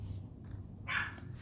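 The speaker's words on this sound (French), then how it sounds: "je ne sais pas pourquoi il continue à japper" A dog yips once in the distance, a short bark rising over a steady low room hum.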